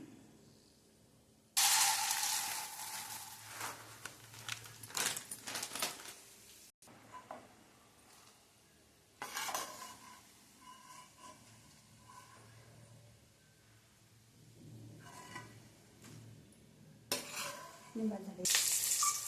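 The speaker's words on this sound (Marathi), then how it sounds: "नंतर पंढरपुरी डाळ तळून घेऊया आपण." Pandharpuri dal frying in hot oil while making crisp bhadang, a steady sizzle with stirring and occasional clinks of a pan, rising in bursts and fading between, no talk.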